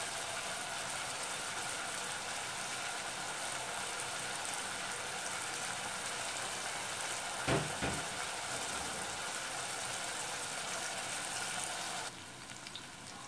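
Onions softening in oil in a pan give a steady, even sizzle throughout, with one brief clatter midway and a slight drop in intensity near the end.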